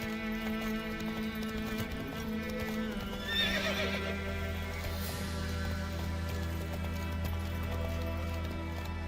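Roach, a horse in The Witcher 3 video game, neighs loudly over a steady clip-clop of galloping hooves and a continuous low hum of game ambience.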